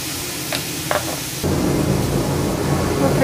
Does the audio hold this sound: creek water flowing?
no